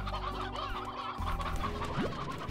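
Chickens clucking in the Slime Rancher video game, several birds chattering at once in a steady, busy stream of game audio with no one talking.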